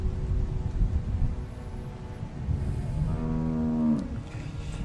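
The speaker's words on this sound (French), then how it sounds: "How do you like that cow, Clint?" A cow moos once, long and loud, in The Walking Dead video game, over a low farmyard ambience with no talking.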